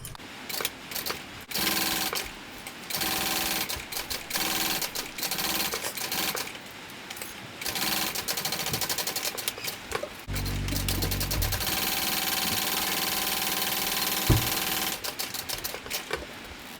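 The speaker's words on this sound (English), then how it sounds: "We're going to top stitch 1/8 of an inch from both sides." A sewing machine top stitches a small dual-compartment crossbody bag, running in rapid mechanical bursts separated by brief pauses, with a longer continuous stretch near the end, close and clear and free of talk.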